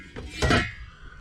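A single metallic clatter of a lid lifting off a pot of leek and potato soup, brief and close, with faint kitchen clinks around it in a narrowboat galley.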